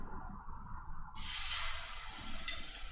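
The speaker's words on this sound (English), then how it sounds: "And that's the sound you like. The sizzle, sizzle." Chicken parm burgers hit hot olive oil in a pan and a loud, steady sizzle erupts partway through, continuing as a bright constant hiss after a quieter start.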